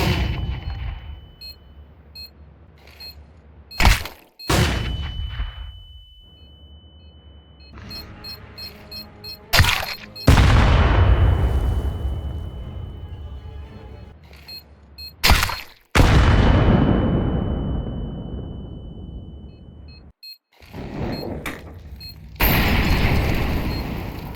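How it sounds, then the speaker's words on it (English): HE grenades and flashbangs going off in Counter-Strike 2, several loud booming blasts at irregular intervals, each followed by a long ringing decay and a high-pitched whine, with quieter game ambience between them. "HE grenades and flashbangs are most effective due to their deafening qualities."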